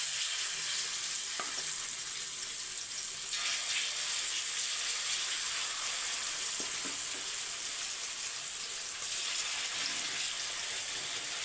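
Prawns mixed with masala fry in oil on a tawa, giving a steady, close, hissing sizzle throughout with occasional faint stirring clicks and no talk.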